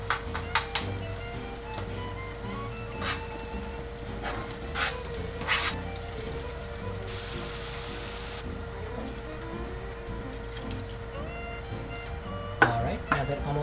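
Onions, peppers and other tender vegetables sizzle in a pot for jambalaya as they are stirred, a steady low crackle under scattered spoon scrapes, with a brief louder hiss midway and a clatter near the end.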